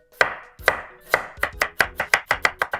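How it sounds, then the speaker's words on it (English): A knife cuts a carrot diagonally on a cutting board for kakiage tempura, about ten crisp, close chops that start spaced out and quicken into an even rhythm. "And this I'm going to slice diagonally."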